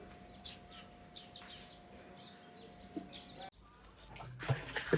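Small birds chirp and tweet in quick, faint calls around their nests on a branch, with a soft hum in the background and a brief rustling clatter near the end.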